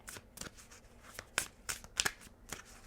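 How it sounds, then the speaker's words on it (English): Tarot cards being shuffled by hand, a run of crisp riffling flicks and soft slaps in an irregular rhythm, close and fairly quiet with no talking. "One more shuffle."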